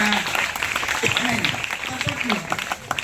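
An audience at a school program claps in a dense burst of applause, with a voice speaking over it.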